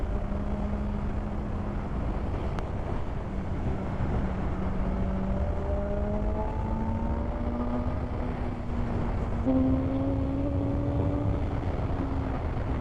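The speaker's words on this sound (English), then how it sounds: "put the bike into a little bit of a hard acceleration wobble there" A BMW M1000R Competition motorcycle accelerating hard, its engine tone rising through the revs in steady climbing sweeps under constant wind roar, heard from the rider's position with no talk.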